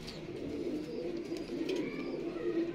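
Low, soft cooing of pigeons continues steadily throughout, layered with murmuring coos from several birds close by.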